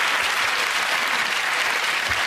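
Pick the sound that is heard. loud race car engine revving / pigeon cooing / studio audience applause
studio audience applause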